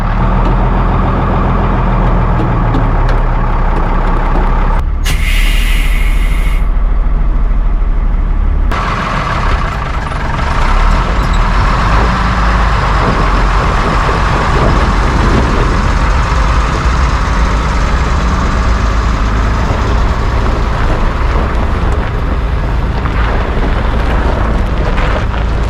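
A 1966 Mack R Model truck's diesel engine idles loud and steady while backing into a shop, a low continuous rumble with a brief hiss partway through.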